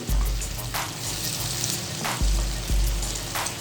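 Taro (arbi) fries in oil with a close, steady sizzle, broken by low knocks and a few sharp utensil clicks as the pieces are stirred. No one speaks.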